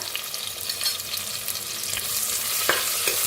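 Onion and curry leaves frying in hot oil already crackling with asafoetida, cumin and mustard seeds, a steady close sizzle with a few sharp pops and stirring scrapes, no voices.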